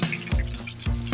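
Mustard seeds and garlic fry in hot oil, making a close, crackling sizzle with two sharp sputtering bursts over about a second.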